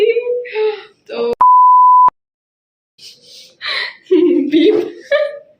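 A single steady censor beep cuts into lively conversation, sitting loud and clean between bursts of women's chatter and light laughter.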